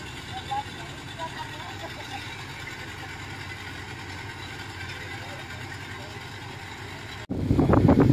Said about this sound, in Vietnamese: Xe máy cắt đi qua luôn.